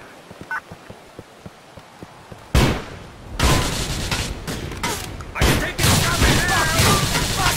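Gunfire in a street gang war at Dragon Heart Plaza in Chinatown, from GTA IV The Lost and Damned: a faint police radio voice, then sudden loud overlapping volleys and booms, dense and close.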